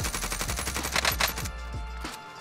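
Rapid automatic fire from a QBZ rifle in a video game, a dense, loud string of shots for about a second and a half, then a few spaced single reports.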